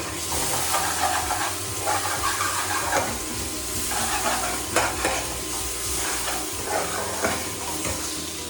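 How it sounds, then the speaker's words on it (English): A utensil keeps stirring and scraping tapioca pearl khichadi around a hot pot in repeated passes over a constant sizzle and hiss, close up with no talk. "so that's why I'm rolling it continuously so that it will not stick to this pot"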